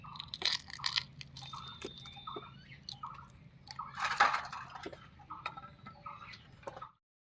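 Shells are peeled off boiled duck eggs in close, irregular bursts of crisp cracking and crunching, with small ticks and crackles between quieter pauses before it stops abruptly.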